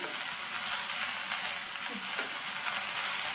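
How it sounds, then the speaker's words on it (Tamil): Fresh mint and coriander leaves sauté in a hot pan for chutney, giving a steady, close sizzle with soft stirring scrapes throughout and no talking. "அதை சேர்த்துட்டு அரை கைப்பிடி அளவுக்கு ஃப்ரெஷ்ஷான கொத்தமல்லி இலை இதையும் சேர்த்துட்டு நல்லா வதக்கி விட்டுக்கணும்"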